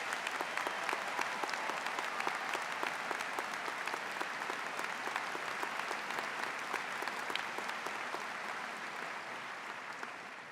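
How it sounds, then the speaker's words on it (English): A graduation ceremony audience applauds steadily, a dense, continuous crowd clapping heard from within the hall that holds evenly for about ten seconds before easing slightly at the end. "Let's have a round of applause for yourselves."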